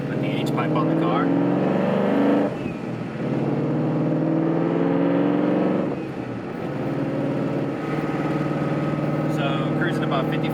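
A car engine with aftermarket Kooks headers and an H-pipe, raspy exhaust humming steadily while cruising around 55 mph at low RPM in 5th to 6th gear, a continuous low drone that eases slightly in places.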